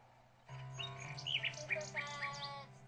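A bird chirps in the video game King's Quest VI: a quick run of bright, high tweets over a steady musical drone. No one speaks.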